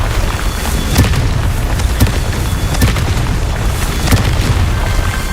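Loud booming bursts from the Confringo explosion spell in Hogwarts Legacy repeat roughly once a second over a dense, rumbling game soundscape.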